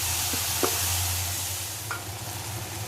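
Onions and tomatoes sizzle in a kadai for kadai paneer, a steady close frying hiss over a low stove hum, with a few light clinks of a utensil against the pan.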